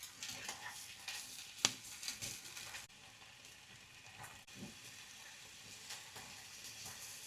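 Bacon frying in a pan beside hotdogs, a steady quiet broadband sizzle with small pops and one sharp crackle, carrying on without talk for several seconds.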